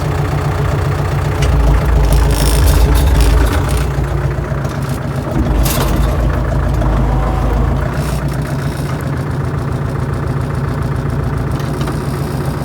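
A Lovol 354 tractor pulling a three-furrow plough across a garden plot gives a loud, steady diesel drone with a deep rumbling throb that holds unbroken throughout, with no voices.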